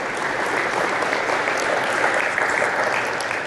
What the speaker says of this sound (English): Big round of applause for Ben.